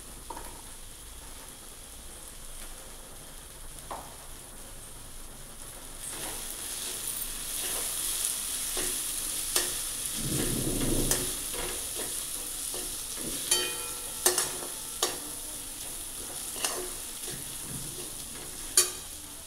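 Okra is stir-fried in a pan with red chili powder, turmeric, asafoetida and salt, giving a soft, steady sizzle with scraping stirs and sharp clicks of a spoon against the pan.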